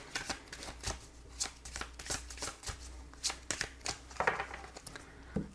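Tarot cards being shuffled for a reading make a steady run of soft, close riffling flutters and slaps, repeating about every half second, quiet and with no voices.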